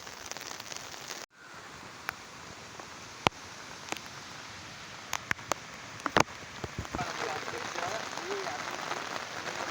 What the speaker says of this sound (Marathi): पाऊस आज दिवसभर चालूच आहे सकाळपासून एवढा पाऊस पडतो आहे